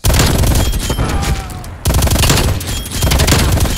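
Dense automatic weapon fire in the Call of Duty map Nuketown, a Stoner 63 light machine gun on PS5, rattling continuously and loud for the whole stretch with a brief break midway and faint voice underneath.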